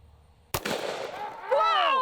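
A single sharp .45 ACP gunshot from a video game bursts out suddenly, followed by a ringing decay and a rising whistling tone.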